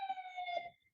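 Ambulance siren passing on a Broadway street in New York's theater district: a steady, loud wailing tone with layered harmonics that fades out within a second.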